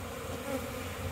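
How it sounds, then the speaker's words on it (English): Honey bees fly in a loose cloud at the entrance of a hive freshly stocked from nucs, giving a steady close buzzing hum with no talk over it. "They're getting busier. There's a bunch hanging out in the air here in front."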